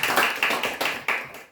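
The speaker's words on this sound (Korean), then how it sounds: "박수 한번 쳐드려요" A small church audience claps in a short burst, a handful of distinct claps coming in quick, slightly uneven rhythm before fading out.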